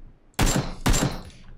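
Two sharp, loud gunshots about half a second apart in PUBG (PlayerUnknown's Battlegrounds), each with a short echoing tail in a quiet outdoor setting.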